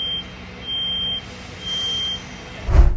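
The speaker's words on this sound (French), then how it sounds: "les gens s'arrêtent pour essayer de comprendre d'où vient ce bip" A mysterious electronic beep echoing across a neighbourhood sounds as steady high-pitched tones in a regular on-off rhythm, three beeps over a low background hum, with a brief loud thump right at the end.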